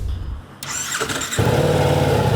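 A 2026 Ducati XDiavel V4 motorcycle engine fires up after a brief quiet moment, catching with a sharp burst and then settling into a loud, close, steady idle with a deep rumbling tone.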